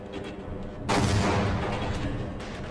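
Grenade blasts in the shooter Half-Life: a sudden loud, booming burst that lingers as a rumbling roar, heavy in the low end, over a busy background of game noise.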